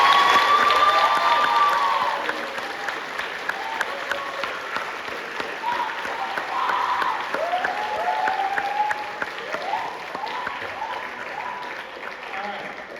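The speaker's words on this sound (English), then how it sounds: "Let's give our seniors another round of applause." An audience at a high school spring concert applauds the graduating seniors. Sustained clapping and some cheering start loud, then ease into a steady round with a few whistles or shouts mixed in.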